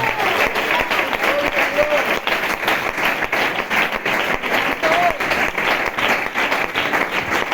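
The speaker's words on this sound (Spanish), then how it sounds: "¿Quieres dar un aplauso al Señor, por favor?" A church congregation applauds with sustained, even clapping that stays close and continuous, with a few faint voices rising briefly within it.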